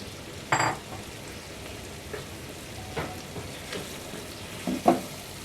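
Chicken karela fries in a pan with a continuous soft sizzle, broken by a few sharp scraping stirs of a spoon against the metal.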